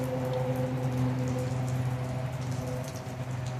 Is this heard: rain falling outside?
yes